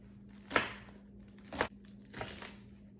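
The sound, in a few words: knife cutting rolled collard green leaves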